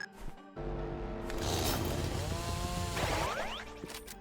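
A chainsaw weapon revving in the Roblox Rivals game, a loud continuous buzzing whine with rising pitch sweeps, heard close and alone for several seconds.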